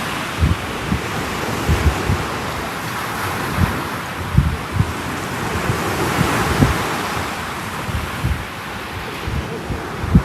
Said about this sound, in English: Waves are trickling in. There is a wind, and that's a northerly